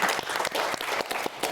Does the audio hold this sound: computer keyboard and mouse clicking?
no